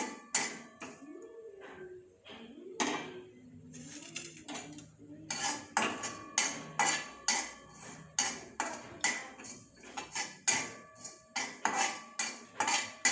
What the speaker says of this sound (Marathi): खसखस थोडी भाजून घ्यायची